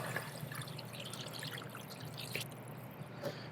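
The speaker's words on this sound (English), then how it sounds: "We're gonna add 1 liter of water." One liter of water pours into a pot for soba noodle broth, a quiet steady trickling splash heard alone over a faint kitchen hum.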